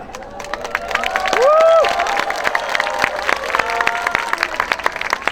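A crowd applauds and cheers at an outdoor presidential election campaign rally at Seoul Gangnam Express Bus Terminal, with dense continuous clapping, a rising whistle or cheer in the middle, and voices calling over it.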